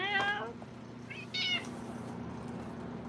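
Buckminster the cat meows twice, two short, faint, high-pitched calls about a second apart, against a quiet indoor hum with no talking.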